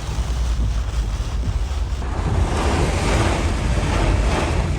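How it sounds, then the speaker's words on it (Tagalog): A violent storm in Florida with strong gusting wind and torrential rain, a loud, dense roar of wind buffeting the microphone over a rushing wash of rain, continuous and close, with no voices. "Halos zero visibility sa lakas ng buhos ng ulan"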